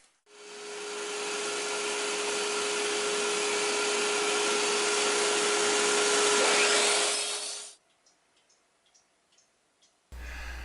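A power saw slices wood at a 45-degree angle for a picture frame, a loud steady whining cut lasting several seconds before spinning down, followed by faint clicks and a brief low thud.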